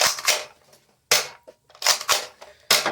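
A NERF Dino Squad Raptor-Slash blaster fires a dart indoors, giving a sharp spring-powered pop with a short rattle of the mechanism, then a brief pause before more bursts of similar clicks and snaps.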